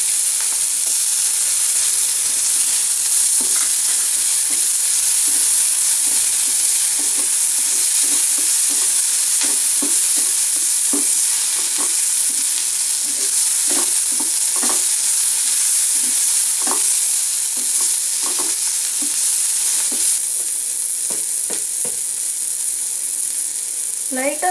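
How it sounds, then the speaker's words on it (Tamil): Carrots go into onions frying in a pan, giving a loud, constant sizzling hiss broken by repeated stirring taps and scrapes close by. "ஆனியன் கொஞ்சம் கோல்டன் ஆகிற டைமில் நம்ம எடுத்து வச்சுருக்கிற கேரட்டை போட்டுக்கலாம்"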